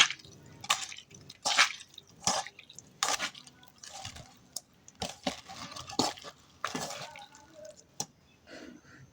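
Taki fish being hand-mixed with salt, wet squishing and squelching bursts repeating irregularly at close range, each press and squeeze standing out against a quiet background.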